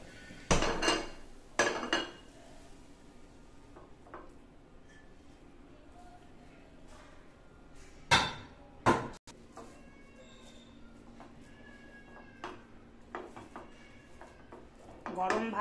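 Mashed potato being scraped into another bowl, with sharp clinks and knocks of a spoon against dishes in a few bursts, separated by quieter stretches in a kitchen.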